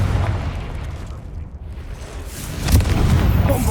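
In Hogwarts Legacy, a Confringo blasting spell goes off as a deep rumbling explosion with a sustained boomy roar and a second burst near the end, loud and close with no talk.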